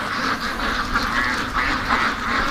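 Ducks shut in all day quack insistently in a loud flock, their calls pulsing and overlapping nearby with no talk.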